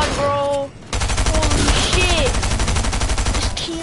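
Rapid bursts of shooter video game gunfire dominate throughout, dense and loud, with a brief lull near the start and game sound effects layered over the firing.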